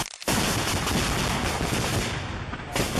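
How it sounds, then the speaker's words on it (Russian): Dense gunfire and shelling around a church in Donetsk, a continuous crackle of shots and blasts that starts after a brief quiet moment and stays loud and close throughout, with no speech. "Отовсюду стрельба."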